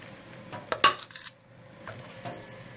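Onions and tomatoes with spices being stirred in a pan: a few faint, scattered clinks and scrapes of a utensil against the metal, with one sharper clatter near the start and quiet gaps between.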